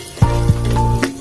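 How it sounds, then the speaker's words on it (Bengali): Chopped onion fries lightly in hot oil for a home-style egg curry, giving a steady close-up sizzle with a faint tonal hum underneath and no talking. "কিছুটা অল্প করে পেঁয়াজ কুচি দিয়ে একটু হালকা ভেজে"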